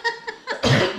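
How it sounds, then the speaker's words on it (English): A person coughs in a short, close burst during a podcast conversation, with a few quieter throat sounds leading into one loud, rough cough. "Now all of a sudden I'm coughing."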